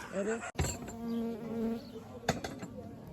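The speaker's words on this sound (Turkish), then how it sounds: "Bak bak arı geldi." A bee buzzing close by with a wavering, droning hum, briefly interrupted by a couple of sharp knocks, with faint voices in the background.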